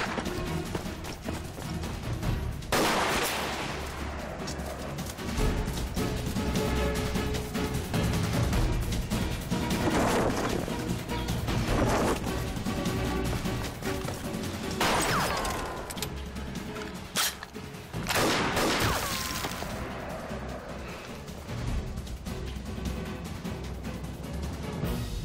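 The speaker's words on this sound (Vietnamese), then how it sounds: "Mau, có tiếng súng." Action-film gunfire mixed with crashes and whooshes goes on for about 25 seconds, with sharp loud bursts standing out over a dense, constant soundtrack.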